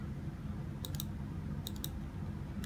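A computer mouse clicks twice in quick pairs, four soft, sharp clicks in all, while selecting page setup in Microsoft Word, heard quietly over faint room hum.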